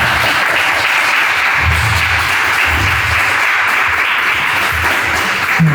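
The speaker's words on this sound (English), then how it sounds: "Give yourselves a round of applause." Sustained audience applause fills a school celebration event at Hickory Hill School, a steady dense wash of clapping from many hands that stays loud and even throughout with no voices on top.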